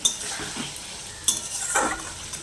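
Potatoes and eggplant being stirred in a pan for a hilsa fish curry, a utensil scraping and knocking against the pan in a few distinct strokes over a soft background sizzle, close and quiet with no talking.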